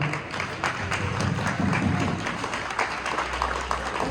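An audience at a ceremony applauds to welcome the chief guest, a dense continuous patter of many hands clapping at even loudness through the whole stretch, with no voice on top.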